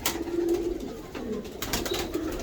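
A Teddy pigeon coos nearby in soft, repeated throaty phrases, with a quiet background and no talking.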